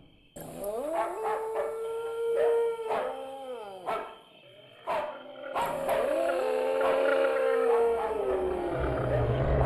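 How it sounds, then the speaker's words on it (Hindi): A dog barks at night in a sharp, loud series and breaks into drawn-out, wavering howls between the barks, close by and strong throughout. "तेंदुआ, मोती क्यों भौंक रहा है?"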